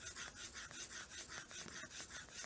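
A tilted pencil shading back and forth across paper, a soft scratchy rubbing in a steady rhythm of repeated strokes, close and quiet with no talking.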